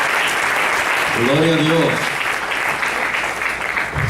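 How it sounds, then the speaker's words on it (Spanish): A church congregation breaks into sustained applause for a family, a dense continuous clapping wash with a voice speaking over it briefly. "Un aplauso, hermanos, a la familia Mata."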